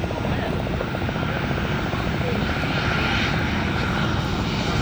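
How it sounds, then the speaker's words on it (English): An Alaska Airlines Boeing 737-800 on short final at an air show drones with a steady, loud, broadband jet engine roar that stays constant and close without pause. "All right, Ken, we got the 737 from Alaska Airlines on short final."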